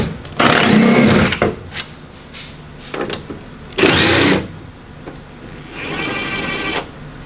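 Power tool whirring in several bursts while removing corner bolts from the storage cubby in a Toyota Tacoma truck bed, loud and close, with short pauses and a longer, steadier run near the end.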